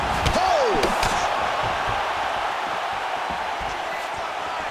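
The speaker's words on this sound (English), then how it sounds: "you hear the crowd react every time they come together" Arena crowd at a UFC bout between Conor McGregor and Tony Ferguson, a loud, steady roar that swells as punches land, with a brief whistle near the start and a dense wash of noise throughout.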